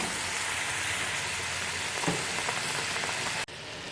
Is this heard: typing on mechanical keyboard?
no